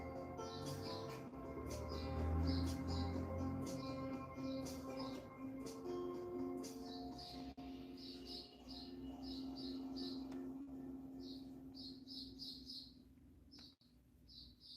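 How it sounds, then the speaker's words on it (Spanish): Small birds chirping in a street, repeated quick high tweets in bursts over a faint steady background hum, fairly quiet and somewhat distant. "oyen los pajaritos en la calle"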